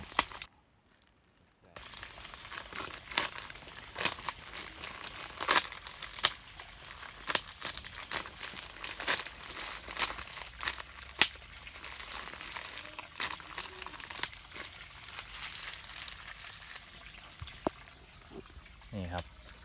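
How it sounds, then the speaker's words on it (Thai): A plastic bag of white oyster mushroom spawn is slit open, giving close crinkling and tearing scratches in irregular bursts, with a person talking intermittently over them. "เราจะทำการ กรีดถุงพลาสติกแถวนี้นะครับ"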